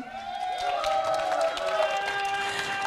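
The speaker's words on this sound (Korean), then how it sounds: "박수가 너무 작아." Audience clapping along at a year-end trot music finals show, steady and dense under a sung melody and backing music, continuous through the clip.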